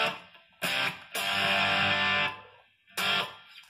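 Electric guitar driven through a PettyJohn Iron Overdrive pedal, heavily struck chords ringing in distorted bursts: a short stab, a long sustained chord, then another hit after a pause.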